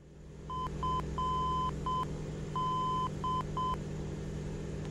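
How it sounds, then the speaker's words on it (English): The Hartford VOR Morse identifier as heard in Microsoft Flight Simulator 2024: a soft repeating pattern of dot-and-dash tones over a low steady hum, played twice in a row. "what you heard there was the actual identifier in the event that I want to identify it conventionally"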